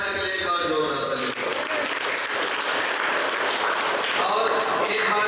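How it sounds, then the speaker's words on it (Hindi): An audience at a business event bursts into loud, dense applause that holds steady throughout, with voices faintly audible beneath the clapping. "हम चाहेंगे सर के लिए एक बार जोरदार ताली।"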